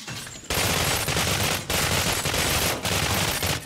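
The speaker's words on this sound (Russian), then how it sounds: "у меня вместо хладомета взялся пулемет" Machine gun fire in the shooter game Anabiosis: Dream of Reason, loud continuous rapid bursts in three long strings separated by brief pauses, close and dense with no talk.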